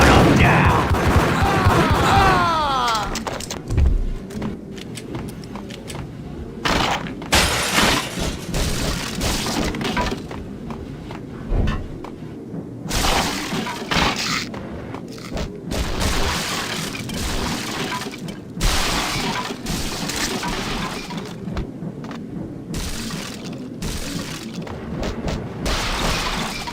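Rapid gunfire and shattering glass in the Max Payne video game, a loud, close run of cracking shots and breaking panes that keeps going in dense bursts, with brief voices in between.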